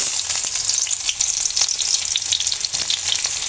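Chopped onions for fried rice hiss loudly and continuously in hot oil, close by, with light stirring scrapes running through the sizzle and no voices.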